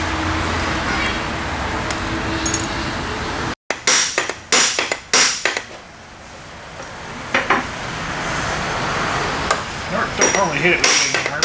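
Sharp metallic hammer strikes ring out in a quick cluster of several blows, pause, then resume in another rapid series nearby.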